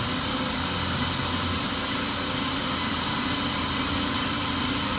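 A flooded BMW E60 528xi engine turns over at night, a dense, steady mechanical rumble with a constant hiss and no clear pauses across the whole stretch.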